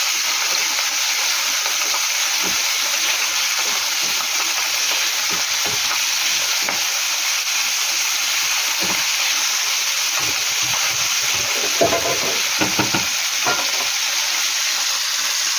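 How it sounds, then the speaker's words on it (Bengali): Turmeric-coated shrimp frying in oil for a taro-leaf dish, a loud steady hissing sizzle across the whole stretch with occasional stirring knocks and spatters near the end. "চিংড়ি মাছটা ভেজে নেব"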